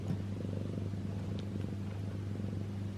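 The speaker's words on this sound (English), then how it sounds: "He's purring." A steady, low, rumbling cat purr, close and continuous, with a soft rhythmic pulse and no voices.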